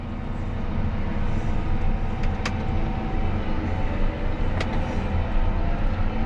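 A John Deere 8410RX tractor hauling a folded corn planter in transport mode rumbles loudly and continuously, its engine note swelling slightly as it gathers speed through the gears, with a few faint clicks over the drone.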